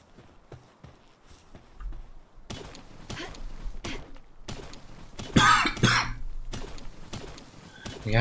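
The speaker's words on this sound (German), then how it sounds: "Sorry, wenn ich immer wieder rumhuste" A person coughs and clears their throat repeatedly in short, close bursts, with one longer, harsher coughing fit near the middle, over a quiet background.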